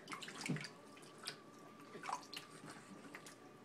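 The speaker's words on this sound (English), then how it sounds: "This is Cooper's second time, I think, without his little sling in the tub" A baby sits in a bath tub, and quiet water sounds come through as faint, scattered splashes and drips, with soft sloshing between them and no talking.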